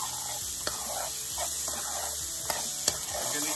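Diced garlic, onion and green pepper sautéing in a pan, a steady bright hiss and sizzle with a few sharp clicks of a utensil against the pan, continuous and close.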